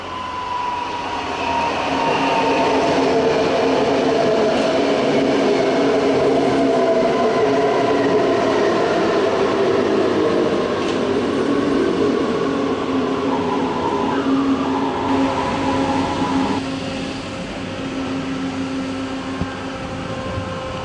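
An S3 S-Bahn train bound for Deisenhofen runs at München Hbf, a loud sustained rumble of wheels and motors with a steady droning whine and faint rail clatter that eases slightly near the end.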